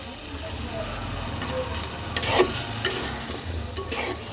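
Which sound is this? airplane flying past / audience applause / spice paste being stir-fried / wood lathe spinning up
spice paste being stir-fried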